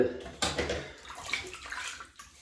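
Water splashes and sloshes at a sink as a man dampens his face before wet shaving with a Muhle R108 razor and goat's milk shaving soap, close and fairly loud, in a few quick bursts.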